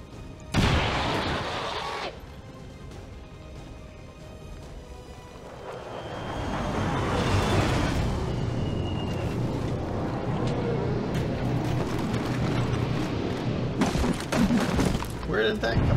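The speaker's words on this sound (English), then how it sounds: "Grenade out!" A grenade blast in the video game XCOM 2, a loud burst near the start followed by a long rumbling roar and debris-like crackle that builds later, with no talking.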